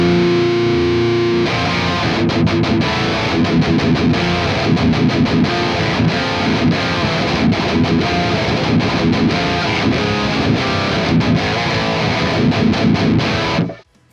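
Electric guitar played through a high-gain rectifier amp simulator plugin, heavily distorted, chugging palm-muted riffing with rapid stops, loud and continuous for about fourteen seconds before cutting off.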